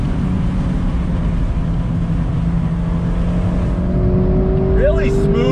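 A 2019 Mazda MX-5 Miata Club with the top down pulls steadily in third gear, its engine a continuous droning hum with a slowly rising pitch, loud and close over constant wind and road noise.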